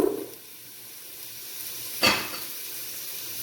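A brief burst of frying sizzle as rutabaga hits hot olive oil in a pan, with a soft low hiss continuing afterward; no voices.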